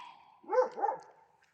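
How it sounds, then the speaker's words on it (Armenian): An Armenian gampr dog gives two quick barks at a moderate distance in snowy weather, short and sharp, with quiet surroundings. "Են որ մեկն է հաչում"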